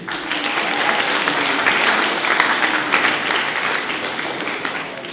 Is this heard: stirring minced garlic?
no